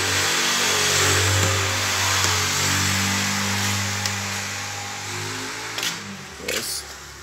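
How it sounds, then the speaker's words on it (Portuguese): A Ford Fiesta with a weak battery is started and its engine runs as a steady, loud mid-pitched hum close by. Near the end a few short knocks and clunks rise above it. "eu vou dar uma partida agora pra. Vamos ver se vai ligar, né?"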